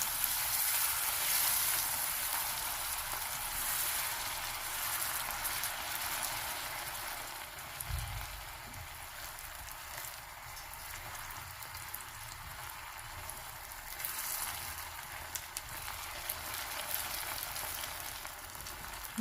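Butter sizzles and bubbles in a pan of hot caramel, a steady crackling hiss that starts strong and softens slightly, continuing without talk.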